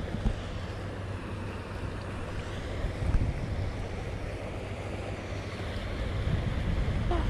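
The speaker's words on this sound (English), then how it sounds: "Oh my God, they're waves." Waves on the River Trent slap against a canoe in a steady, fairly loud wash of water mixed with wind buffeting the microphone, continuous throughout and building slightly toward the end, with no talking.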